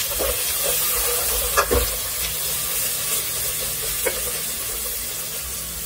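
Chili and tomato sauté in a pan for a fish and greens dish, a soft continuous sizzle with a few scraping stirs and light knocks.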